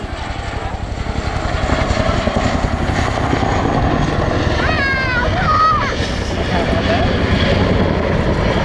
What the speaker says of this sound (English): this amazing helicopter with tandem rotors powering an amazing 15 tons and at speeds up to 180 miles an hour